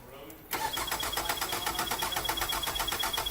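A car engine cranks on its starter during a battery cable voltage-drop test, producing a fast, even rhythmic churning that starts abruptly after a brief quieter moment and continues steadily.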